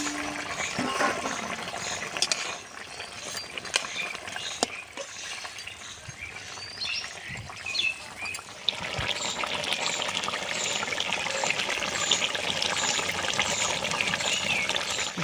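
Water poured from a vessel into a simmering fish and papaya curry in a village kitchen, a steady close trickle and splash running continuously with a livelier, denser pour in the second half.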